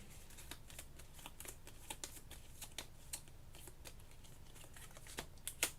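Deck of cards being shuffled for a board game, soft rapid riffling and flicking clicks repeating steadily, quiet and close with no talk.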